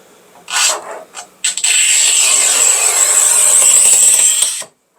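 A manual tile cutter, a RUBI HIT-1200 N or a Shijing 1352, scores a tile. A couple of short scrapes give way to one long, loud, steady grinding rasp lasting about three seconds, close up, before it stops abruptly.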